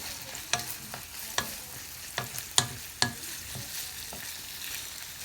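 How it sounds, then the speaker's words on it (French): Noodles, shrimp and chicken stir-fried in a wok give a soft background sizzle broken by about eight sharp scraping and clattering hits of the utensil against the pan, irregularly spaced and close. "ingrédient après ingrédient, on remet tout dans la poêle wok"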